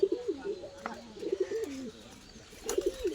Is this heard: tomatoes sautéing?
no